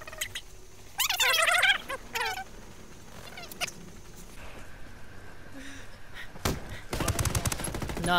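Gunfire in a video game, with bursts of rapid shots cutting through near the end, after squeaky, warbling voice-like sounds and scattered noises earlier on.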